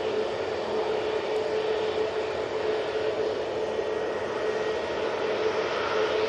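Airliner jet engines roar steadily at a Manchester Airport runway, a broad, continuous rumble with a faint whine running through it, constant in level and heard alone without voices.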